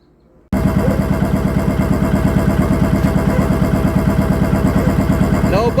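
A Kawasaki Vulcan 1500 motorcycle engine, just repaired for overheating, starts abruptly after a brief silence and runs at a steady, rhythmic idle, loud and close, with no talking.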